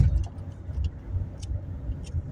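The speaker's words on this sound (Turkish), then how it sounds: "Arabamızı çalıştırdık." A car engine running just after being started, a low rumbling idle with small uneven surges, heard close and moderately loud.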